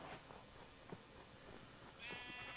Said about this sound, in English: It's really only three sheep. No, I hear one.